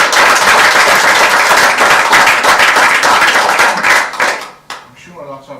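Loud sustained applause from an audience at a district council planning committee meeting, dense hand claps filling several seconds before tapering off abruptly into murmured talk.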